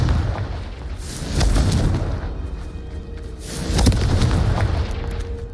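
Confringo blasting spell in Hogwarts Legacy, two heavy booming explosions a couple of seconds apart, each a broad rumbling burst with crackling debris trailing off.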